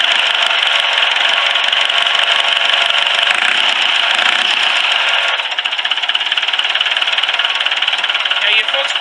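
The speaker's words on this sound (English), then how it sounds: "I'll show you how it runs after sitting most of last summer and all winter" A Massey Ferguson 165 tractor engine, run after sitting through a summer and winter, chugs steadily and loudly up close at a little throttle, with a constant rattling drone and no clear pauses.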